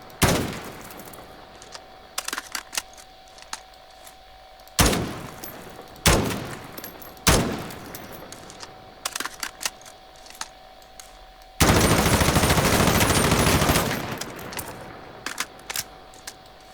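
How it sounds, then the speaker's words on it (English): M4A1 assault rifle with no attachments firing in Call of Duty Warzone: several loud automatic bursts with short pauses between them and one long sustained stream of fire near the end, with scattered single clicks in the gaps. "let's see how this gun actually performs without any attachments on it"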